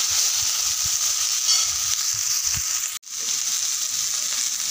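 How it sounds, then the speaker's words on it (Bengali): Diced potatoes and onion frying in a pan give a steady, close sizzle with soft scraping stirs, broken by a brief dropout near the end. "আজকে আমি আলু দিয়ে ছোটো ছোটো আলু কেটে পেঁয়াজ দিয়ে ভাজা করছি"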